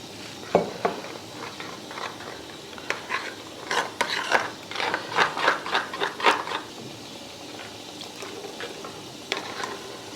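Spoon stirring red chili powder and deggi mirch with water into a spice paste for palak gosht, a series of soft wet scrapes and clinks in rhythmic bursts, close and fairly quiet, with no talking.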